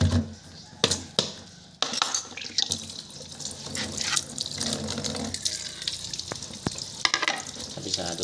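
Running tap water pours while food is rinsed to wash off salt, a loud splashing flow with sharp clatters and knocks from handling, close by with no talk.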